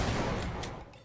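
An explosion in the video game Half-Life: a loud, broad blast that fills the short clip and decays slowly, with a few faint crackling bursts on top.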